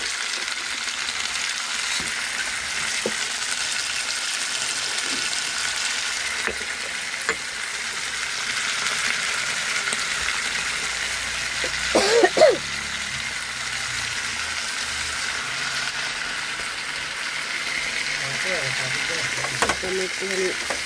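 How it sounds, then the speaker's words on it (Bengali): Cauliflower and potato fry in a pan at home, giving a steady broad sizzle throughout with a few brief stirring clatters near the middle and end. "ফুলকপি আলুটাকে একটু ভেজে নেব লাল করে"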